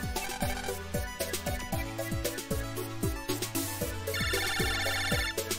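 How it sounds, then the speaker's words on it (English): A phone ringtone plays in Mega Man Battle Network Chrono X, a bright electronic jingle with a looping chiptune melody and rhythmic bass, steady and alone. "Oh, we getting a phone call?"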